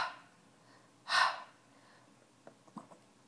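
A voice imitates the breathy 'h' sound of the letter H, a single short airy exhale near the mic in an otherwise quiet room, followed by a few faint soft clicks.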